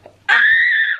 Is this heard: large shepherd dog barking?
no